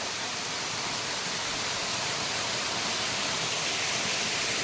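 Sesharai waterfall, a hidden cascade seen in the hot dry season, gives a steady, loud rush of falling water with no break or change from start to end and no voices.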